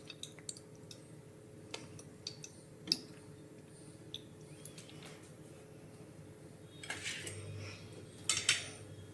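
A metal spoon clinks and taps against a pressure cooker while oil is added for pulao in a home kitchen, giving soft scattered clicks and a few brighter clatters in a quiet room.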